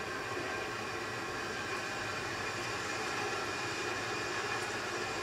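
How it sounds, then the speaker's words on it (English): A train rushes past in GTA V, a steady broadband roar and rumble that holds at an even level throughout, heard alone without talk. "Train!"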